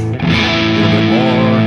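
An electric guitar plays a crunchy, overdriven tone through a Headfirst amplifier, loud sustained chords ringing continuously with distorted harmonics and no talking.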